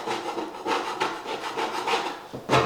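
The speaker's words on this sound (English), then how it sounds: "start scraping off anything like that. Big clumps like this have to go" Handheld 4-inch drywall knife scraping hardened clumps off a floor ahead of plank installation, a series of close, gritty rasping strokes in irregular rhythm with no talking.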